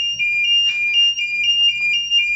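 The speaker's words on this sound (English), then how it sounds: "if you want to silence the alarm, you just press this one." An LPG gas leakage detector alarm beeps loudly in a rapid, repeating electronic pattern of shrill tones, close by and continuous, with faint background noise.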